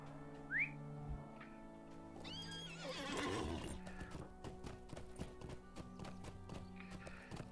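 Horse hooves clip-clopping in Lord of the Rings Online, with a sharp neigh early, then steady rhythmic hoof taps over a low ambient drone, close and clear.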